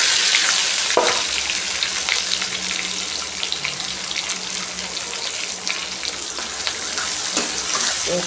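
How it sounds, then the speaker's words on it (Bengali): Sliced onions frying in hot oil in a home kitchen, a loud continuous sizzle with occasional stirring clatters, close up and without voices. "পেঁয়াজটাকে ভেজে নেব।"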